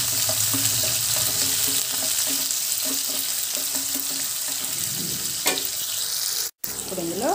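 Onion pieces and dried red chillies fry in hot oil for a beetroot dry curry, giving a steady close sizzle with light stirring and clinks, and a brief break near the end.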